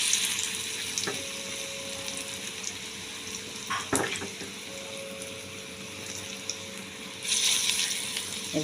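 Jute leaf fritters sizzle in hot oil, a steady close crackle with a few sharp clinks and splashes as more batter drops in, surging louder toward the end.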